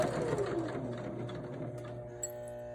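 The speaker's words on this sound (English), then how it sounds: "just run a single stitch through the mask" A sewing machine runs a steady single stitch through a two-ply fabric hospital mask, its motor humming continuously at close range with a slight slowdown near the end.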